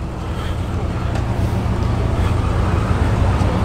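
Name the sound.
old Land Rovers driving in at a classic car show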